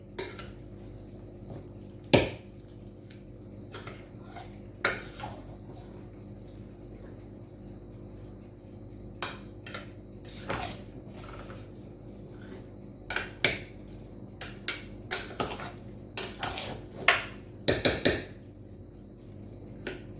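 A spoon scrapes and clinks against a metal pressure cooker pot while stirring masale bhat, spiced rice with vegetables, in scattered bursts, with soft stirring sounds in between; close and fairly quiet, no voices.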